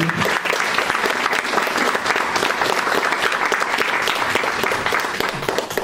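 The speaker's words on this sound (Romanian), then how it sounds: "Haideți să-i aplaudăm de organizatori" An audience at a presentation gives the organizers dense, sustained applause, loud and close, holding steady for several seconds with a faint crowd murmur underneath.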